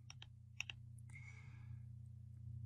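Computer mouse clicking to save a downloaded starter code file: a few sharp, quiet clicks in quick succession early on, close up over a low steady hum.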